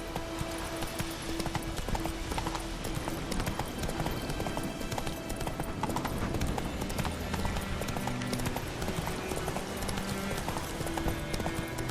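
Roach, the horse in The Witcher 3, clip-clops along at a steady gait, hoofbeats loud and continuous over game music with little talk.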